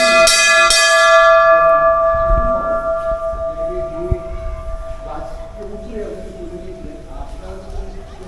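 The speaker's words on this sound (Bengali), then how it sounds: "মন্দিরে ঘন্টাও রয়েছে" A bell at a Krishna temple rings loudly several times at the start, its bright metallic tone ringing on and slowly decaying, while voices and background activity continue underneath.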